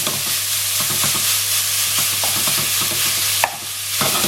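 Wooden spoon stirring food frying in a non-stick pan, a steady close sizzle with repeated soft scraping taps and a sharper knock near the end.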